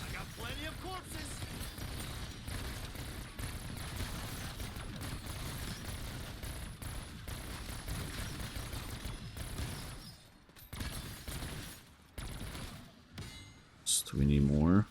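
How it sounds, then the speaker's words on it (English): Gunfire from an overheated weapon firing at a slower rate in Black Ops 6 Zombies: dense rattling bursts and game effects fill most of the stretch, then thin out into sparser shots and electronic chirps near the end. "You could actually shoot even though it's overheated at a slower fire rate."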